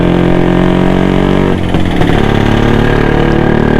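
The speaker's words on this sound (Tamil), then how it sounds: "உண்மையிலே வண்டி இன்ஜின் சூப்பராக இருக்குது." A Suzuki Shogun two-stroke motorcycle engine runs steadily and loud up close, a continuous buzzing drone with a brief dip in the middle.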